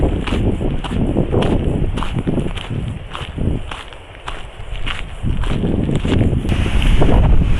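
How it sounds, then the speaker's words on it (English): Strong wind gusts hard on the edge by a beach where a van is parked, a continuous loud rushing roar buffeting the microphone with rising and falling surges. "This is what I was talking about, how much windier it is here."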